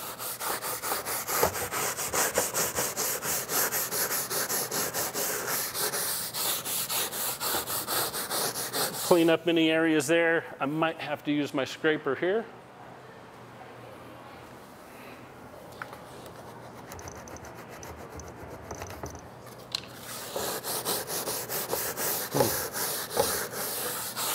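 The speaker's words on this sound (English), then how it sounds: "take my scrub brush" A scrub brush works Bona cleaner into a floor with rapid, rhythmic rubbing strokes, loud and close, pausing while a person briefly talks and through a quieter stretch before the scrubbing resumes.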